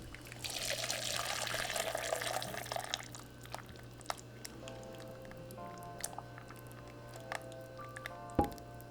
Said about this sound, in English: for the rest of our broth, we're going to strain it so like that we can make our consommé